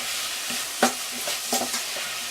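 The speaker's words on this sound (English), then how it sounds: "Quick stir around just to release some of the flavours and make a mess" A spoon stirs stock around a hot pan for spicy pasta, giving a couple of scraping strokes over a soft sizzle, close and brief.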